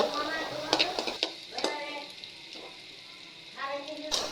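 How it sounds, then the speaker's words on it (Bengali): Chopped garlic is stirred in a pan while it fries, with irregular spatula scrapes and clinks over a faint, low sizzle. "গলে যাওয়ার পর এখানে এখানে দিয়ে দেব সামান্য রসুন কুচি এবার এটিকে আবারও ভালো করে নাড়াচাড়া করে নেব"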